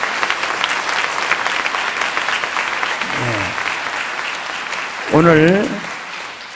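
A church congregation applauds the people about to be baptized at a service. A dense, steady wash of clapping runs throughout while a voice speaks briefly over it.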